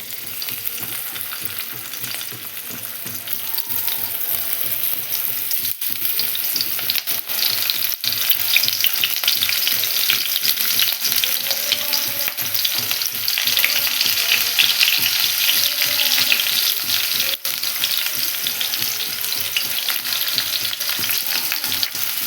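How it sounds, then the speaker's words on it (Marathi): Okra frying in hot oil over a full gas flame: a steady, loud, close sizzle that continues without a break, with occasional soft stirring scrapes and no talking. "थोडं गरम होऊन देऊ तेल आणि त्यामध्ये आपण भेंडी सोडूयात"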